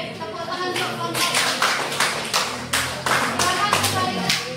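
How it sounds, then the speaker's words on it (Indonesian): Clapping in a classroom-style session of a teacher coaching workshop, applauding a group presentation; loud, close, with rhythmic claps falling into a synchronized beat, punctuated by sharp bursts. "Oke, tepuk tangan untuk kelompok."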